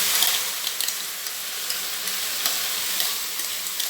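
Mustard paste mixed with garlic and green chili sizzles and hisses in a hot pan for eggplant in mustard sauce, a steady frying crackle broken by a few light stirring taps, close and with no talking.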